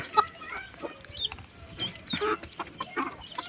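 A newly acquired red junglefowl, white-flecked, gives a run of short, close clucks in quick bursts, fairly clear with little other noise.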